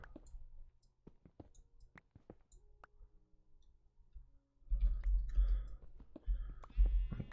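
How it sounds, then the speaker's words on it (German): A Minecraft sheep bleats amid sparse clicking block sounds, then heavier thumping footsteps and digging come in louder toward the end. "Wir hören schon ein Schaf."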